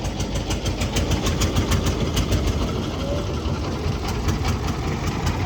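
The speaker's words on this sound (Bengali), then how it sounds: "এখানে প্রচুর পরিমাণ ট্রলার চলে এপারে ওপারে" A trawler boat engine idles steadily on the Mongla river, a continuous low chugging rumble with a fast regular knock, close and loud throughout, with no clear speech over it.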